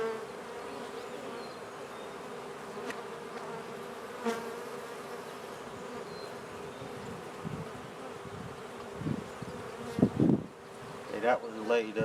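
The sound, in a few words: honey bee swarm buzzing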